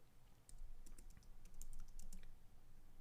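Computer keyboard keys tapped while entering a line of C code declaring a struct pointer, a quick irregular run of close, crisp clicks over a low steady background hum, with no talking.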